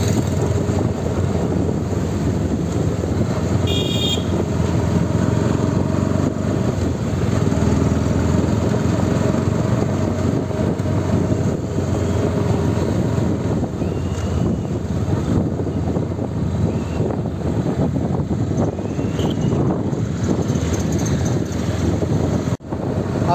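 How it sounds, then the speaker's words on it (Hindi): Heavy road traffic on a busy bypass, a steady loud broadband roar with wind buffeting the microphone throughout, as if recorded from a moving vehicle, with no speech. "रोड पर ट्रैफिक इतना ज़्यादा है"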